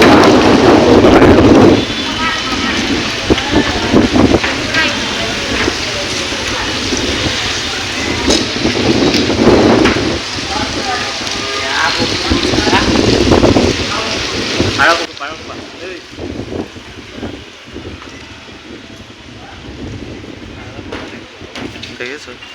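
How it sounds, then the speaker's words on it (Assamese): Rain and gusting wind sweep across an open outdoor spot near a temple, roaring against the microphone in loud, uneven bursts, with a person talking over the weather. "বৰষুণ ধৰিছে আৰু বতাহো মাৰিছে"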